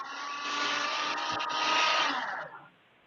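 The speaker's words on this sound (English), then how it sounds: "Wow, it's a shredder." A paper shredder runs loud and steady for about two and a half seconds during a water pollution control meeting, a dense whirring grind that then cuts off abruptly.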